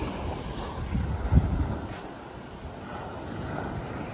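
Wind buffets the microphone over a steady wash of sea and a boat on open water, with one louder gust; no one speaks.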